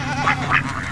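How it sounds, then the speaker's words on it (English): A duck quacks several times in a quick, nasal series, loud and close, with no voices over it. "there's the duck"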